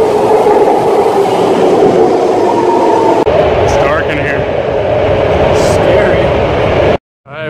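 A train rolling on rails, loud and close, with a steady rumble and rattling carriage noise throughout, then an abrupt cut near the end; voices can be heard faintly in the background.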